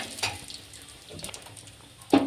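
Dried chili, bay leaf and radhuni seeds hitting a little oil, with soft sizzling and light stirring clinks, ending in a louder sputtering burst.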